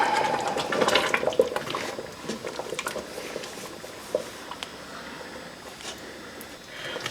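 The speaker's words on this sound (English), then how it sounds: "now that we have a nice pot bubbling away and well seasoned" Spaghetti sauce simmering in a pot, bubbling and popping steadily with soft wet gurgles and small splashes close by, no one speaking.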